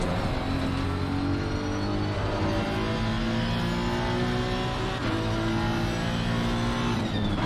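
Honda GT3 race car engine in Assetto Corsa Competizione at Donington, revving hard and steadily throughout with rising and falling pitch, plus brief tyre squeal, loud and close with no talk.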